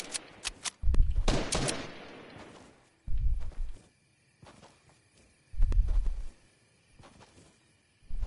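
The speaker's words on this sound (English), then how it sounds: "I sniped this kid" Sniper rifle shots in a shooter video game: three heavy, booming reports about two seconds apart, each with a short rumbling tail, separated by quieter stretches with faint in-game movement.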